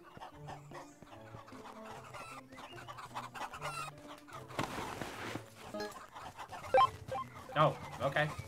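Chickens cluck and squawk in the farmyard of the Hoarding Simulator video game. The calls come as a run of short repeated clucks with louder bursts toward the end, set against a low hum while a person talks over them.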